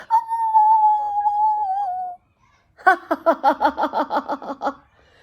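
A voice imitates a dog or wolf howl, holding one long high wavering note for about two seconds, then after a short pause breaks into a rapid run of yelping, laugh-like pulses.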